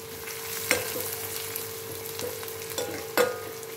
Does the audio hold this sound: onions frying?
yes